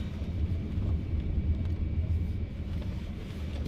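Faraday Future FF 91 luxury car weaving through a cone slalom, a steady low rumble of the drivetrain and tires lasting throughout, fairly constant in level with no talk.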